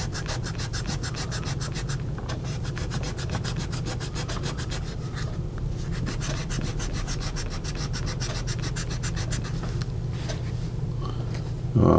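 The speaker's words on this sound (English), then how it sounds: "I'm anxious to try this eraser that comes with." A pencil's attached eraser rubs back and forth over paper in rapid, even strokes, close and steady for about twelve seconds, with no talking.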